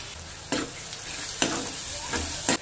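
A ground paste of coconut, lentils and peanuts goes into a kadhai of hot oil and onions and sizzles steadily, with several scraping stirs of a spoon at regular intervals, close and clear, with no voices.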